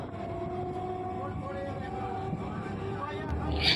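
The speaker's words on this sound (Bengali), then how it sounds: "এবার হরিপাল স্টেশন ছেড়ে ট্রেনটা বেরিয়ে যাচ্ছে।" A local train on the Howrah–Goghat line pulls out of Haripal station, its steady low rumble and rolling clatter rising slightly toward the end, with faint background chatter.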